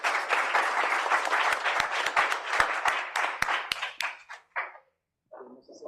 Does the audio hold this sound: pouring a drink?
no